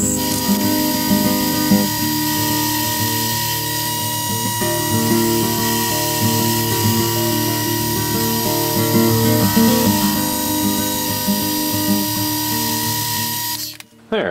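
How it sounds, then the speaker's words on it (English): Milling machine drilling out holes in a metal stepper motor mount for a CNC router, a loud continuous grinding whine with fluctuating tone, stopping abruptly at the end. "So I am going to drill these out. I'm just centering it up here in the mill."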